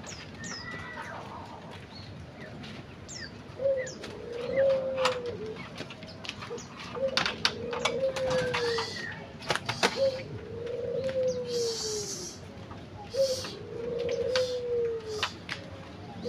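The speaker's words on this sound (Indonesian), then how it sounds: "ini dia anakannya, usia 21 hari teman-teman, puter pelung" A 21-day-old puter pelung dove gives four soft, drawn-out coos at steady intervals, fairly faint and close, with light handling clicks and rustles in between.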